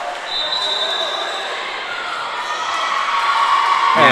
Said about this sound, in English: that crowd is up and roaring once again